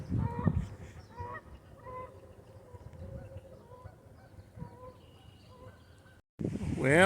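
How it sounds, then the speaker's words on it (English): Geese honk repeatedly near a lake shore, a series of nasal calls of moderate loudness against quiet outdoor air, with a louder burst of honking at the very end. "Oh, do you hear the geese?"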